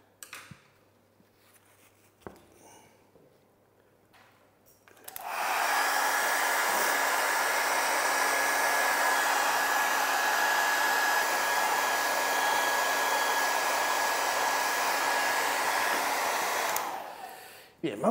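A hair dryer blows on a watercolor portrait, switching on after a few quiet seconds and roaring steadily and close for about twelve seconds before cutting off.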